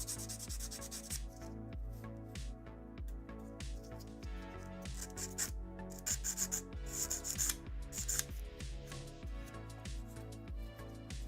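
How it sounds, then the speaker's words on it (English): Steady, close rhythmic rasping of sandpaper worked over a small resin dragon figure, repeated strokes running continuously over a faint musical background. "Maybe there's more sanding than I thought on this one."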